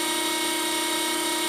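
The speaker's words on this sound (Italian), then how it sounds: "proviamo sempre la velocità di rotazione di questo piccolo trapanino" A small electric drill spins steadily with a magnet screwed onto its chuck, giving a continuous, even whine with a steady hum throughout, loud and close with no voices.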